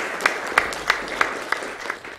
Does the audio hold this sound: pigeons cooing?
no